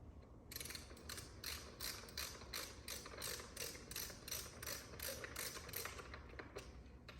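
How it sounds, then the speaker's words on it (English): A ratchet tightens the bolts in a star pattern while assembling an Ariel Rider X Class 52v step-through electric bike, producing a steady run of fast, close clicking strokes, faint and without talk. "tightening them in kind of a star pattern as much as I can"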